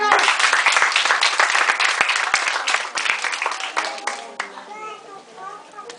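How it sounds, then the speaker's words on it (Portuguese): Applause for a group of girls at a community arts event, dense clapping mixed with children's voices that thins out and fades in the last seconds as chatter continues. "Mais uma salva de palmas para as meninas"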